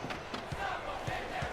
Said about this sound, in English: What are they booing?